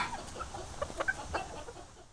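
Chickens kept in a back garden cluck in short scattered bursts, fairly close but quiet, with no talking.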